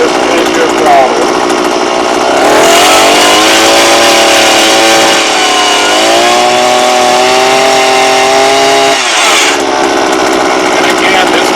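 A 43cc Earthquake auger powerhead engine, used for drilling holes for posts and fruit trees, idles briefly and then revs up to a loud, sustained, buzzing drone. After several seconds it drops back down.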